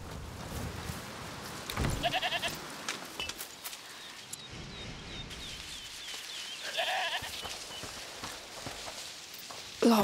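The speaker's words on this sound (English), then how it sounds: "is that the goat he talked about?" Goats bleat in A Plague Tale: Requiem, several short wavering cries heard faintly, with footsteps and ambient game sounds between them.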